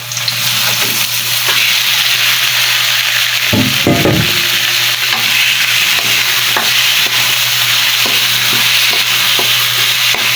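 Stingray pieces and turmeric root fry loudly in a pan, a dense, continuous sizzle with occasional stirring knocks close by. A brief louder scrape comes partway through, and no one speaks.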